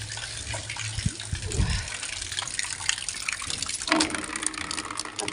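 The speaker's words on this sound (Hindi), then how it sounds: "पानी लगा देती हूँ, बाल्टी लगा देती हूँ।" Tap water runs steadily into a bucket in a home bathroom, a continuous close gush of filling water with a few faint bumps and knocks over it and no talking.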